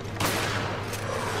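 Shotgun fire in the video game Resident Evil Revelations: two loud, close blasts roughly three-quarters of a second apart over a dense background rumble.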